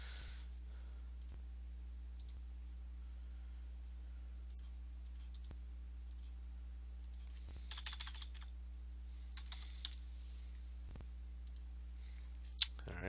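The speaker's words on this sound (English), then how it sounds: "my horrible typing here." Faint, sparse keyboard typing with scattered soft clicks over a steady low hum, with a brief burst of quicker keystrokes partway through.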